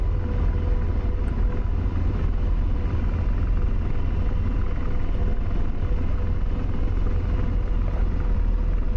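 Steady, loud rotor and turbine rumble of an AH-64 Apache attack helicopter in the DCS flight simulator, a continuous broadband drone that holds even throughout with no voices.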